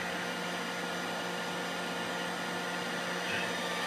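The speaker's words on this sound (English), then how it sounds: "we're gonna run a vacuum so that that dust doesn't go into" A shop vacuum runs to collect dust from a milling machine cutting a circular pocket, giving a steady, loud broadband whoosh with a constant hum and no change from start to finish.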